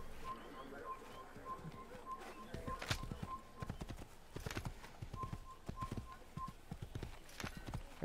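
Rapid, rhythmic video-game horse hoofbeats clip-clop steadily throughout, from Assassin's Creed, with a faint repeated chirping tone in the background.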